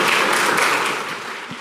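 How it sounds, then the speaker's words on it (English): Audience applause at a Transform Westside Summit event welcoming a speaker to the stage, steady dense clapping filling the room and fading slightly near the end. "So welcome up Destiny with a big round of applause."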